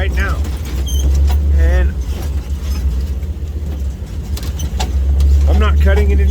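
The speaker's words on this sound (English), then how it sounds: "I am driving out on a broken leaf spring that's clamped together right now" A wrecker tow truck drives on a broken leaf spring that has been clamped together, with a loud, steady low engine and road rumble plus intermittent creaks and rattles from the cab; someone speaks briefly over it.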